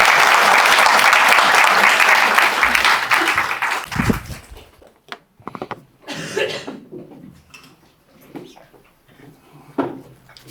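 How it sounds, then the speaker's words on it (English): Audience applause for a panel of guest speakers at a social enterprise policy website launch, a dense, steady clapping for about four seconds that ends abruptly, followed by scattered coughs, shuffling and soft room noises. "I just want to get a round of applause for our panel of guest speakers."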